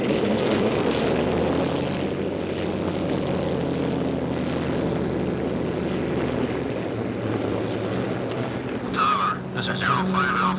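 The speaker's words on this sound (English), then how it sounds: "A world of flashing propellers, shimmering jet streams, gleaming shapes." Propeller airliner engines drone steadily and loudly throughout, a continuous low mechanical roar at an airport in 1956, with a brief brighter burst near the end.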